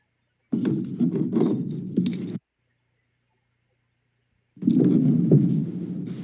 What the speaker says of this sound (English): And then we can put the keys back.